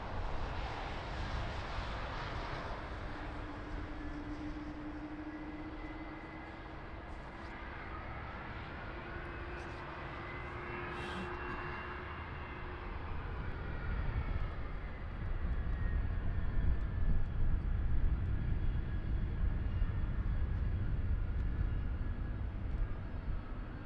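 An Azul Airbus A330 airliner at Lisbon Airport, bound for Campinas, rumbles steadily with a broad engine roar that swells louder toward the end, with a faint whining tone running through it.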